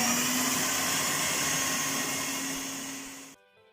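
An electric hand mixer beating cupcake batter in a bowl, a steady loud motor whir held evenly for over three seconds before cutting off abruptly into quiet.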